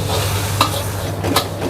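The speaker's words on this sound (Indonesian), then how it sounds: "Aku mau lanjut nasi goreng seafood extra ayam suwir." Seafood fried rice with extra shredded chicken sizzles in a hot wok at a street food stall, with continuous frying hiss and a few sharp scraping stirs of a spatula.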